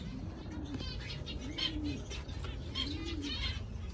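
Royal pigeons coo in low, rounded calls repeating every second or so, close by, with faint chirps and rustling in the background.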